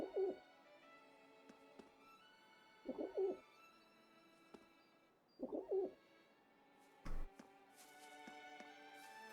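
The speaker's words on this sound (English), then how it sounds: "Pigeon." A pigeon in the video game Trails into Reverie coos in three soft, low rounded bursts a few seconds apart over a quiet ambient background, followed by a brief knock.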